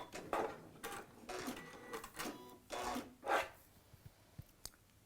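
A sewing machine stitches straight across a cushion seam in short bursts of rapid whirring, pausing between runs, close and moderately loud.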